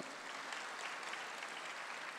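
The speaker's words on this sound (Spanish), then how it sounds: "Vamos a dar un fuerte aplauso." Church congregation applauding at a Christian preaching service, a steady dense wash of clapping that stays fairly faint and distant for the whole stretch, with no voices over it.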